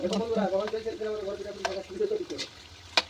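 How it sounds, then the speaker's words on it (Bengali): Gujiya frying in hot oil in a wok over high heat, a steady soft sizzle with occasional stirring clinks and a voice talking over it nearby. "দেখো এখানে ইন্দ্রা কড়াইয়ে চাপিয়ে দিয়েছে ভাজতে"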